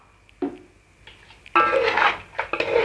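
A spoon scrapes and clanks against a pot while Kashmiri chicken biryani is stirred with a little added water; a few sharp metallic knocks and scrapes, close and loud, with no talk.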